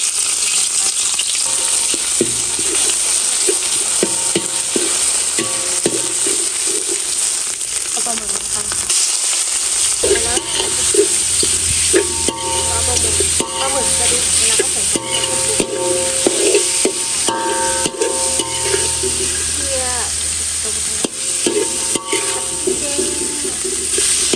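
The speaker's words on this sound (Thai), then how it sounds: "ลงมือผัดกันเลยเราก็ใส่น้ำมันก่อนนะทุกคน ตามให้ร้อนใส่พริกแกง" Curry paste hits hot oil with squid nearby, crackling loudly and continuously while a spatula scrapes and clatters in frequent bursts, with a brief quieter dip before the frying picks up again.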